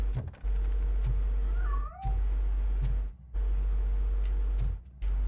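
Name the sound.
cat meowing in video game RoboCop: Rogue City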